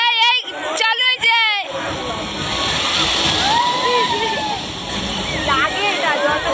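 At a water park, a heavy stream of water pours down onto people in a continuous, loud rushing splash. Brief voices come before it, and people shout and chatter faintly underneath.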